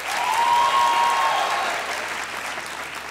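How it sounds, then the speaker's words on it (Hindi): A studio audience on a comedy talk show claps loudly and steadily, with a faint whistle-like tone early on, then tapers a little. "जिनका ख्याल है उमेर भाई ने अच्छे पॉइंट्स रेज किए हैं वो तालियां बजाएं"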